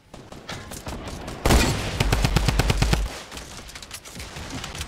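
Gunfire in a Fortnite tournament match, with sporadic shots at first, then a loud rapid burst of automatic fire lasting over a second, fading back to scattered shots.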